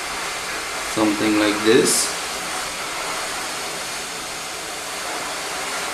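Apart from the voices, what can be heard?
heat tool preheating a PCB for LED repair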